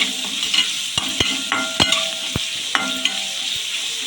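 Sliced onions frying in a pan with salt, a steady close sizzle broken by sharp spoon scrapes and clacks at uneven intervals as they are stirred, with no voices.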